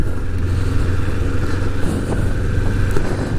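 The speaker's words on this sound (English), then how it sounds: "Car coming." A car approaching on a road during a morning ride, its steady engine rumble and road noise loud and continuous throughout, with no talking.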